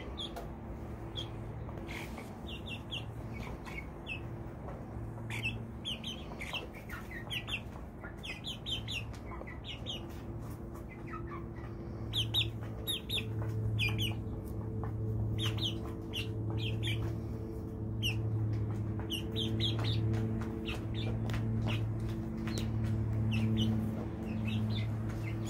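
Chickens cluck and chirp in short repeated bursts close by, over a low steady background hum.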